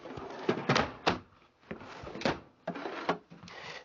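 Drawers in a Forest River Sunseeker motorhome slide open and shut one after another, each ending in a close, wooden thunk, with about half a dozen knocks spaced irregularly.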